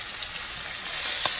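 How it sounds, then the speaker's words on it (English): Seasoned chicken sizzles in a hot pan, a bright steady crackle of frying fat with a small pop near the end. "Listen to that sizzle."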